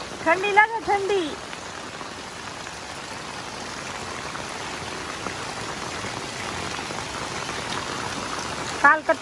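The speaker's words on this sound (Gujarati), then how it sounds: "ફૂલે ફૂલ વરસાદ ચાલુ છે આખો દિવસનો." Heavy rain pouring steadily, a broad constant wash of rainfall with trickling water; a voice speaks briefly at the start and end.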